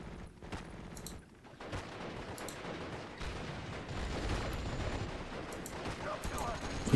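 Battlefield gunfire in Steel Division: Normandy '44, with rattling machine gun bursts and scattered shots over a rumbling combat din, moderately loud and continuous, with a voice speaking underneath.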